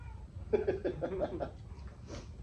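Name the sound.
pet cat meowing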